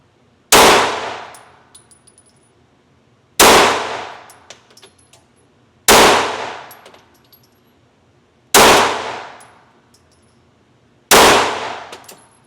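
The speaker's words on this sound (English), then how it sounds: "First shots of the 19X," Five single gunshots from a Glock 19X pistol ring out at steady intervals of about two and a half seconds, each a loud, sharp crack with a decaying ring.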